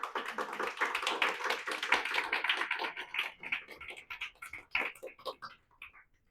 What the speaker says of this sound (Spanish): Yo le haré un aplauso a Jesús